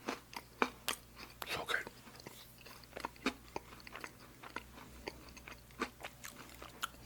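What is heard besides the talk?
chewing cake with cream cheese icing and coconut, ASMR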